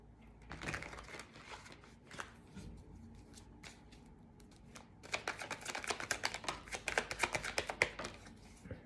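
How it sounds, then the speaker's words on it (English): A deck of tarot cards is shuffled by hand, with a few scattered riffles and then a long run of rapid, crisp flutters, close and fairly quiet. "I'm just going to give this a good couple of shuffles."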